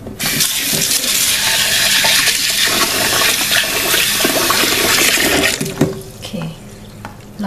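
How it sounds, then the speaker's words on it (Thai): Tap water runs steadily into a rice cooking pot, a loud continuous pour that stops abruptly near the end, with a few knocks as the flow is cut off. "เดี๋ยวเติมน้ำน้ำก็เติมประมาณข้อหนึ่งข้อนิ้วมือ"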